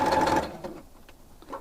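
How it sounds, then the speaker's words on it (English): A sewing machine stitches a small fabric cup coaster closed, giving a brief close whir of rapid stitching that slows and fades into quieter mechanical clicks. "Now we're going to sew our hole closed using that 1/4 inch seam allowance."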